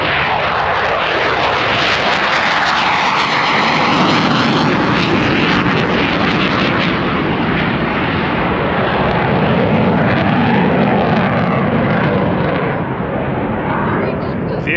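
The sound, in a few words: airplane taking off at a show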